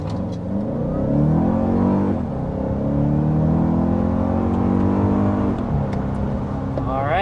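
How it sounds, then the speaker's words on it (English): A 2024 Toyota Grand Highlander accelerates hard to 60 mph, its engine rising through several upshifts with clear pitch sweeps and drops, loud and steady inside the cabin, with no talking. "we're up to 60 miles per hour in the Grand Highlander"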